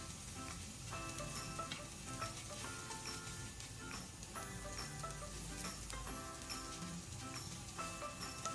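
Salmon grilling in olive oil in a pan, a continuous dense sizzle and crackle heard close, steady throughout with faint utensil movement and no talk.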